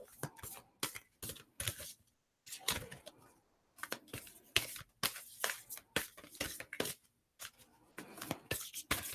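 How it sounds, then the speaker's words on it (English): Large oversized tarot cards being shuffled by hand in bursts of papery riffling and slapping, close and fairly loud, with short pauses between rounds and no talking. "I love these cards, what they say, but I hate shuffling them."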